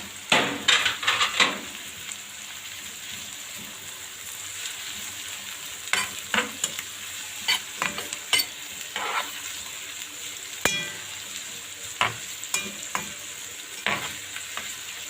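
Onions and peppers are sautéed together in a pan with spices for an old-style potato and meat tray bake, giving a close, steady sizzle broken by repeated scraping and clacking stir strokes.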